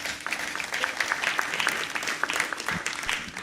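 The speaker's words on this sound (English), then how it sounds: "shall we do a big round of applause?" An awards ceremony audience applauds, a dense, steady clatter of many hands clapping for a few seconds at moderate distance, with no talking over it.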